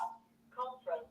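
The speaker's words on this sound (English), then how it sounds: "I got a phone ringing here." A telephone rings indoors in short, faint, repeated electronic bursts, heard quietly in a still room with no voices.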